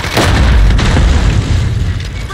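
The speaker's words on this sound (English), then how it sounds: "Grenade out!" A grenade blast in Call of Duty: Warzone: a loud, close boom with a heavy low-end rumble that lingers and fades over a couple of seconds, with faint voices underneath.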